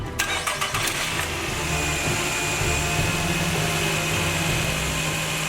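A Honda XL250 motorcycle engine cranks with a few rapid chugs, catches and settles into a steady, fairly loud running idle close by, with a thin whine over the drone.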